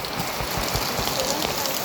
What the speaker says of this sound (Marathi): पाऊस एवढा मोठा पाऊस आला आहे